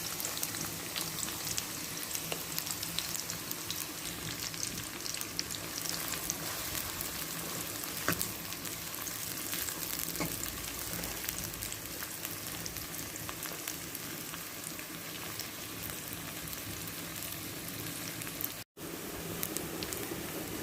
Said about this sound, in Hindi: पैन में 1 प्याली ऑयल डाला है हमने और ऑयल गर्म हो चुका है। अब हम इसमें प्याज शामिल करते हैं।